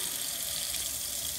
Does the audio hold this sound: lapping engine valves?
no